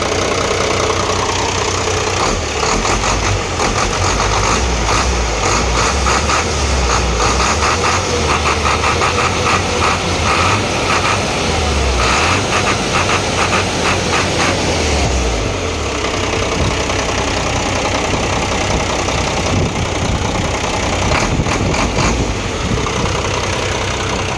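A large car engine idles smoothly and loudly up close, a steady continuous rumble with a faint ticking texture and a slight dip in tone partway through, with no voices over it.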